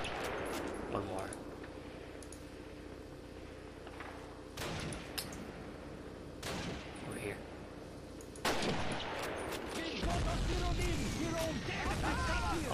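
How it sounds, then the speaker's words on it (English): Artillery fire in the video game Call of Duty: heavy, booming blasts land at intervals over a steady battlefield din, with a louder barrage near the end, while a voice talks faintly underneath. "Oh no, artillery."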